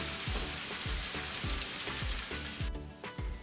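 Onions fry in a pan for Bombay-style masoor pulao, a steady loud sizzle with soft rhythmic stirring scrapes underneath, close and alone.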